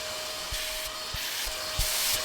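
A cordless stick vacuum cleaner with a crevice tool runs with a constant whining motor hiss, with short scraping pulses as it moves over a surface.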